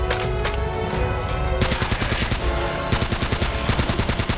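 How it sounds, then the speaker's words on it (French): Rapid automatic M4 rifle fire in Uncharted 1, loud sustained bursts with a brief break partway through, then a choppier rattling stream, with no talk. "je peux tirer d'une main en plus quand je tire sans viser"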